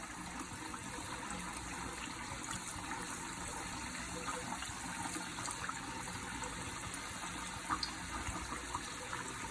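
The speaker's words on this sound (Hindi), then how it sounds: "इतनी देर में हमारे समोसे फ्राई हो रहे हैं" Samosas deep fry in hot oil, giving a steady close hiss and bubbling sizzle with occasional brighter pops, no talk.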